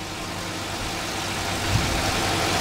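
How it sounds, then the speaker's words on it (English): A car engine idles steadily just after an oil change, a smooth, even low rumble held close and constant throughout with no talking. "you want to listen and make sure that the engine's not making any weird noises"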